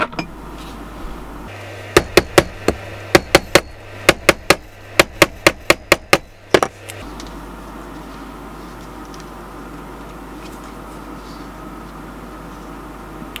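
A hammer sets a leather snap fastener on an anvil: a burst of about fifteen sharp, close metallic strikes in uneven clusters, then steady background noise with no further hits.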